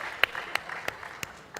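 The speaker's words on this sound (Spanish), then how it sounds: "no hay que aplaudir" Scattered handclaps from an audience at a conference panel session, about five sharp, separate claps spaced out rather than a full ovation, with a faint murmur behind.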